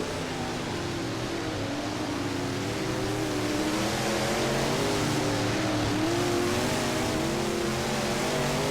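Several race car engines roar continuously at a distance during hot laps on a dirt track at Thunder Hollow Speedway, their pitch rising and falling as they circle.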